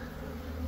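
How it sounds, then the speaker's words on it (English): A low, steady buzzing of bees from a colony built on the outside of a barbecue, faint and continuous, with no voices over it. "These bees are something else."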